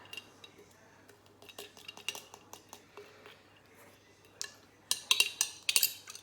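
Pre-workout drink being stirred in a glass, a series of quiet spoon clinks and taps in an irregular rhythm, growing louder and faster into rattling strokes near the end.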